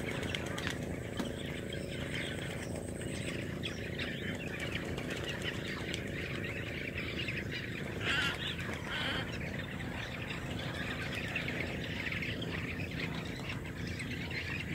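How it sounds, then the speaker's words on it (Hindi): A flock of black-tailed godwits at the Mangalajodi wetland lake gives faint, scattered calls and wing flaps, distant under a constant wash of ambient outdoor noise. "ये ब्लैक टेल्ड गोल्डविक्स का झुंड है।"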